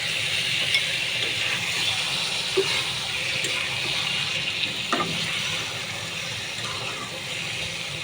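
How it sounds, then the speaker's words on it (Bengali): Lukewarm water runs steadily from a tap while loitta fish are washed in a kitchen sink, a continuous loud splashing gush with a few small clinks. "এই মাছটা একটু গরম পানি হালকা গরম কুসুম গরম পানি দিয়ে ধুয়ে নেবেন"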